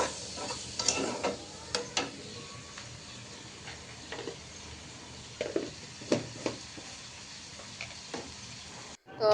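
Chopped onion, bay leaf and spices fry quietly in a pan, with a soft steady sizzle broken by scattered stirring clicks and scrapes, fairly faint throughout.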